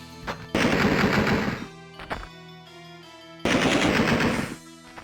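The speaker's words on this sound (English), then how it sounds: "enemies constantly shoot at you from off-screen" Bursts of enemy gunfire in the video game Alone in the Dark 2, two loud sustained volleys of rapid shots separated by a quieter stretch with a couple of single cracks and a low hum.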